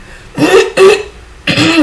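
Three close, loud coughs, the last two following quickly after the first with short gaps between them.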